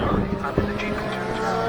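British Superbike machines, twin-cylinder Kawasakis among them, race past at Donington Park during a 2021 race. A dense, loud engine drone and roar fills the whole stretch, with a voice talking over it.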